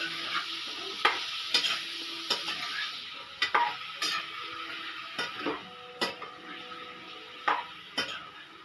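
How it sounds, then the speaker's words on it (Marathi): Sweet potato cubes stirred with cumin and chili in hot oil, a soft sizzle under repeated scrapes and taps of the spoon against the pan at an uneven pace. Close and fairly quiet, with no talking. "तर आता त्याला आपण थोडंसं हलवून घेणार आहोत व्यवस्थित."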